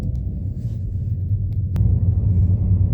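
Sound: car driving on a road

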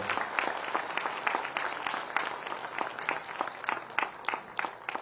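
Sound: audience applause at job offer ceremony

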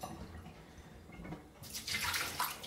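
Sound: water running quickly into a glass

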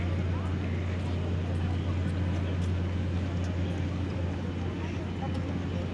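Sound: ship departing from the pier

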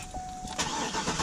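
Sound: Cadillac car engine cold start

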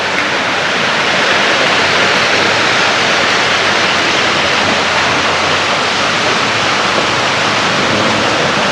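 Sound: waterfall

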